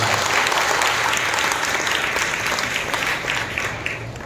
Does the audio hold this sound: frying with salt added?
no